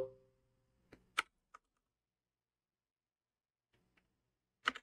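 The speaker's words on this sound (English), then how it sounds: "I'm gonna type mine in." Computer keyboard keys tapped while entering a two-step authentication code, a few scattered clicks in short bursts with quiet gaps between, close and fairly faint.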